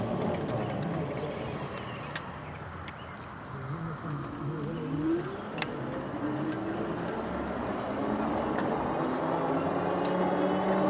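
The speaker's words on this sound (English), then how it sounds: "I've got a car coming behind me." A car approaching from behind on an evening road during a bike ride, its rising engine and tire rumble growing steadily louder over constant road and wind noise, with brief clicks and a faint chirp scattered throughout.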